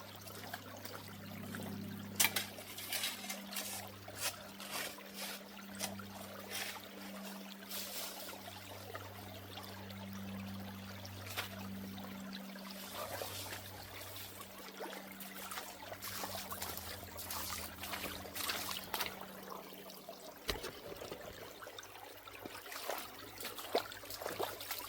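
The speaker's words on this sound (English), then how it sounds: "Sluice is working like a champ." Water trickles and gurgles steadily through a gold prospecting sluice box outdoors, a faint continuous flow with occasional splashes and a low hum beneath.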